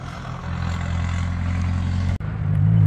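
A Nissan Silvia with an SR engine rumbles past at a car meeting at a stadium, its exhaust giving a loud, steady, deep drone that swells near the end.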